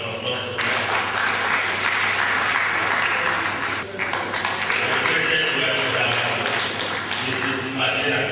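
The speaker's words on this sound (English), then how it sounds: "I think he deserves a round of applause for that." A crowd applauds at an honoring ceremony, a dense, sustained wash of clapping that holds at an even level throughout.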